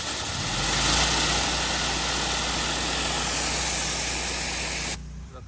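A pressure washer machine roars steadily through a test run on a driveway, a dense broadband hiss and engine drone held at constant loudness before cutting away near the end, close and with no voices.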